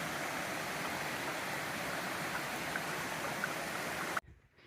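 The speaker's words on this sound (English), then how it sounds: "Oh, that water's flowing." Steady broadband rush of stream water flowing along the Appalachian Trail, continuous and fairly close, cutting off abruptly near the end.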